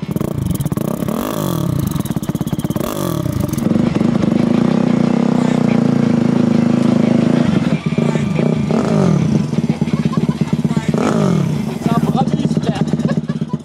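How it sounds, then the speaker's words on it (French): A turbocharged Honda CRF 450 dirt bike roars close by as it rides, its engine note rising and falling through revs with a sustained high-load stretch in the middle. "Je roule une 450 CRF turbo"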